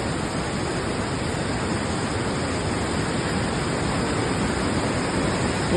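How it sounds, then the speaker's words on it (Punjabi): Ghaggar river floodwater at the Chandpura siphon in Punjab, carrying about 800–900 cusecs, gives a steady, dense roar of rushing water, loud and unbroken throughout with no voices. "ਉਹ 8-900 ਕਿਊਸਕ ਪਾਣੀ ਚੱਲ ਰਿਹਾ ਹੈਗਾ"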